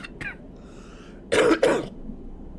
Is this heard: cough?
yes